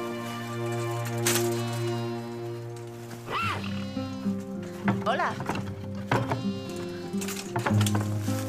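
Sheep on a fjord-side farm bleat in several wavering calls spaced out over a continuous music bed, moderately loud.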